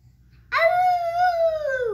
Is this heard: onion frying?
no